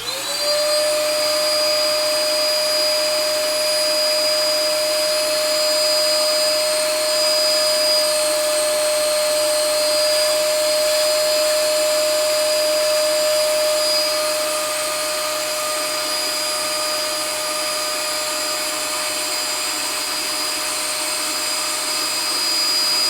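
A vacuum cleaner runs steadily and loudly nearby, a continuous whining drone with a fixed high tone and no pauses or speech.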